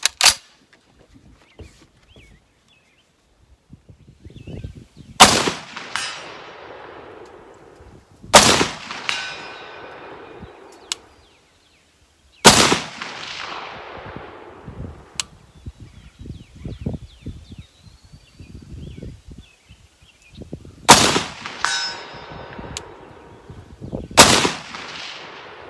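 Springfield M1A Socom 16 rifle shots at steel targets 200 yards out, six loud sharp blasts spaced a few seconds apart, several followed by a faint distant metallic ring from the steel, with no talking.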